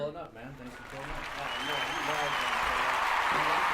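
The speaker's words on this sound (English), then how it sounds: "can we get a round of applause for my homeboy OFB, Young in his beat?" Applause from a studio audience on a talk show, starting thin and swelling into steady, full clapping with voices underneath.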